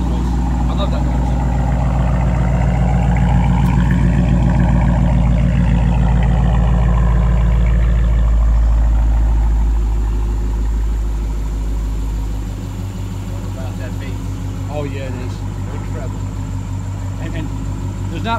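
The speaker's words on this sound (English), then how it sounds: "Just listen to that noise. I love that noise." A car idles through a newly installed aftermarket exhaust, a loud deep burbling rumble that eases slightly partway through, with someone speaking over it.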